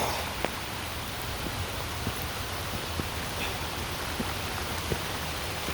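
Steady rain falls with a soft, continuous hiss and occasional light drip ticks. No voices are heard.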